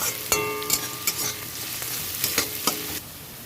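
Chopped onion fries in a hot pan with a bright steady sizzle, broken by a few clinks and scrapes of stirring over about three seconds, then the frying hiss fades.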